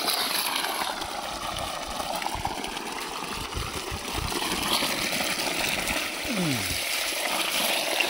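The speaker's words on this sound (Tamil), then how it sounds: "தொட்டிட்ட எல்லாத்தையும் கொண்டாந்து தண்ணியில் வைப்போம்." Turmeric plants set into water outdoors, a steady wash of flowing, splashing water with a low pump-like hum running throughout.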